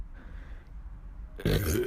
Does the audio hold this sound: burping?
yes